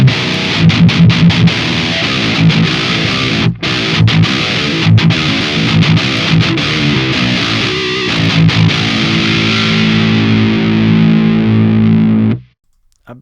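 A high-gain metal electric guitar played through a Nevo Studios ToneX amp capture with an EVH cabinet, giving thick distorted chugging riffs with palm-muted stops, then a long sustained ringing chord that cuts off abruptly.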